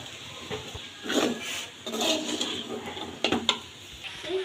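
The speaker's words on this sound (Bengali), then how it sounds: "একটা বড় কড়াইতে দিয়ে সুন্দরভাবে নেড়ে চেড়ে নিচ্ছি" A spatula clatters and scrapes in a large wok while noodles are stirred, irregular soft metallic knocks over a steady low background hiss, fairly quiet and close.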